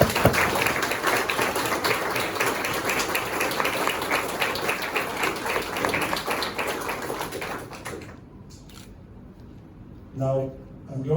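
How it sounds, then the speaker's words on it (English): Applause at a French Legion of Honour knighthood ceremony: dense, sustained clapping from the audience for about eight seconds, then it stops abruptly, leaving near quiet and a brief burst of talk. "So please, applause for Jitesh Ladwa and all of his people"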